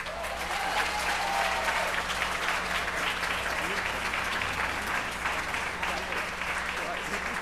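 A crowd at a reunion gala dinner claps in sustained, even applause as the 2011 Woman of Achievement Award is presented, filling the room without a break.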